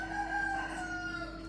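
A rooster crows from close by in a sustained, steady call, with harmonic tones held through the whole stretch and no voices over it.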